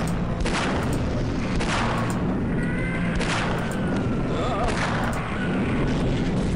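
Gunfire in the first-person shooter Half-Life blasts repeatedly as enemies are shot, a string of loud booming shots at uneven intervals over constant game noise.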